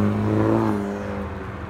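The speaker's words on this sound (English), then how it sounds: "they brought the helicopter out" A police helicopter circling overhead makes a loud engine drone with a steady low hum that fades slightly as it moves away, continuous with no talking.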